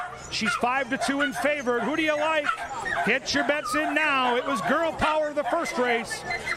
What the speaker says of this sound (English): You can hear the barking.